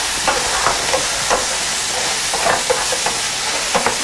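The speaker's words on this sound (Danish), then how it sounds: "Herover der buller kogen." A pot cooking with margarine on the stove gives off a steady, close sizzling and bubbling hiss with small irregular pops, continuous and loud with no talking over it.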